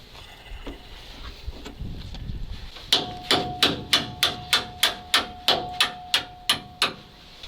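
Steel pin being hammered through on an old Soviet MAZ crane during repair: about a dozen sharp, ringing metallic blows in a steady rhythm, close and loud, after a few seconds of quieter rustling and handling.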